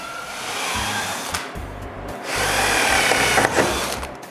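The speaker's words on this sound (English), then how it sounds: "I do the same thing for the frame but with a shorter drill." A shorter drill whirs into a wooden door frame to bore hinge pilot holes, close and steady with a short interruption and a louder second burst.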